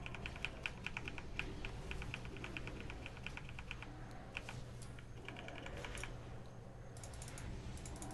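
Steady, rapid computer keyboard typing during a World of Warcraft game, clustered clicks and key taps, close and fairly quiet, over a faint constant background hum; no talking.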